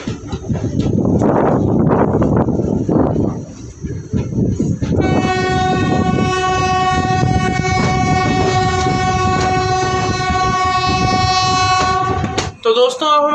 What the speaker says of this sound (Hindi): चलिए अब हम देख लेते हैं जरवल रोड रेलवे स्टेशन से अपनी ट्रेन का डिपार्चर।